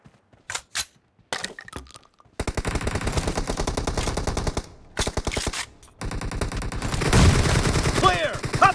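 Rapid bursts of M762 rifle fire in a PUBG Mobile team deathmatch, a few isolated shots first, then long sustained automatic strings broken by brief pauses, close and sharp, with faint game voices beneath.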